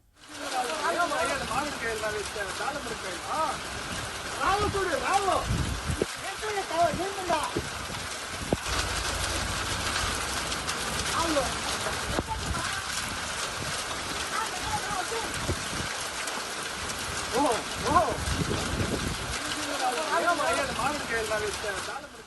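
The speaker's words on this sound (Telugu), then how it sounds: "అకాల వర్షాలు ఓ మోస్తారుగా కురుస్తూ ఉన్నాయి" Unseasonal rain, with hail, falls in the Kuppam area of Chittoor district as a continuous wet hiss with spattering drops, while people talk over it at moderate level throughout.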